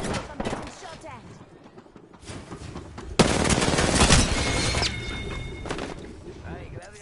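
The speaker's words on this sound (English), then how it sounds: "Listen up, I'm getting shot at." Rapid video game gunfire rattles in bursts, sharpening into a dense, loud volley midway with a brief high ringing tone, while a voice speaks over the shooting.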